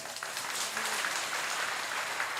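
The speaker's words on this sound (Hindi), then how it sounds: "यदि आनंद आ रहा तो ताली तो बजा दीजिए" A crowd at a Pandokhar Dham gathering claps steadily, a continuous wash of many hands at a moderate distance with no break.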